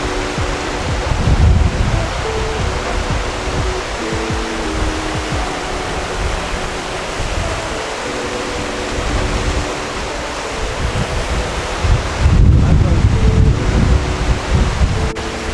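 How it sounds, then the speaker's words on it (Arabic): Two rivers in Georgia merge into one, giving a steady, broad rush of flowing water up close, constant throughout with slight surges and wind buffeting the microphone. "اللي ورايا ده عبارة عن نهرين داخلين في نهر واحد"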